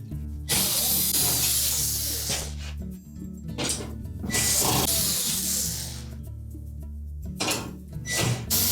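A power driver backs out the screws holding a Whirlpool range cooktop to the burner box in several short whirring bursts, with clicks and metallic handling sounds between them, close and clear.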